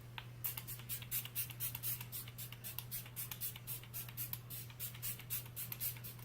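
A rapid series of short, airy spritzes of Smashbox primer water from a spray bottle, close and fairly soft, over a steady low hum.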